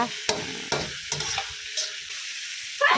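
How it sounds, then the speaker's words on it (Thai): Metal utensils scrape and clack against a pan in a few sharp strokes while yellow chilies and garlic sizzle softly underneath. "ผัดต่อไปเรื่อยๆ นะคะ"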